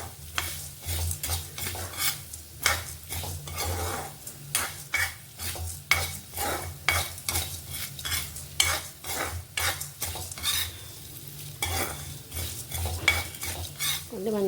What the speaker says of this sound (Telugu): ఇలా కలుపుతూ ఫ్రై చేయాలి మొత్తం.